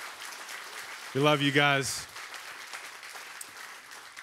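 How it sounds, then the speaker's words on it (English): Congregation applauding during a church service, a soft spread of clapping running underneath while a voice calls out briefly near the start. "Give them a big hand clap this morning."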